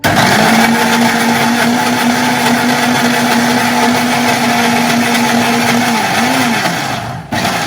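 Electric kitchen mixer grinding cardamom for vettu cake, a loud, continuous high whirring motor with a steady pitch that drops briefly near the end before cutting off.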